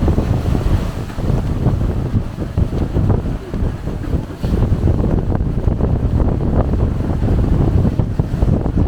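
Strong wind buffets the microphone aboard a tour boat on a Kenai Fjords cruise out of Seward, Alaska, with a continuous low engine and water roar as the vessel slows over a large ocean wave, steady and loud throughout.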